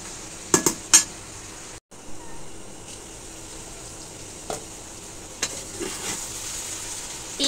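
Meat fries in oil in a pan with a soft, steady sizzle, broken by a few sharp metallic clinks and scrapes of a spatula stirring against the pan.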